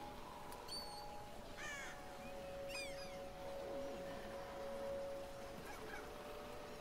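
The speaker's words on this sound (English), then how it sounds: "with these gangster ass crows. So many crows." Several crows caw in short hoarse bursts over a steady ambient hum in The Walking Dead: Michonne video game, the calls scattered and moderately distant.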